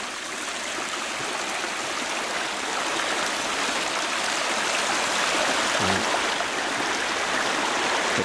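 A forest creek rushes and gurgles steadily nearby, a dense, even wash of flowing water with a faint low knock near the middle and no voices.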